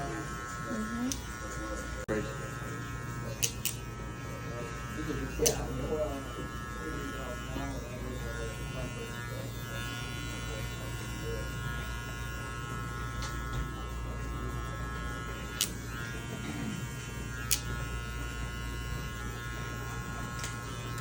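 Electric hair clippers buzz with a steady, close hum while cutting hair during a barbering lesson. The lever is adjusted between open and half-closed as they run, and a voice talks over them.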